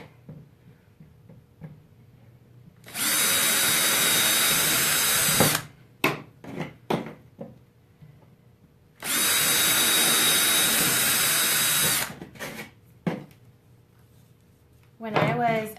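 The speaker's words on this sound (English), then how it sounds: "I'm just gonna make a little hole here in the very end of my paintbrush." Two long, loud whirring bursts from a power drill boring a small hole into the end of a wooden paintbrush handle, each lasting about three seconds. Clicks and handling noises fall between the bursts, and a person talks quietly.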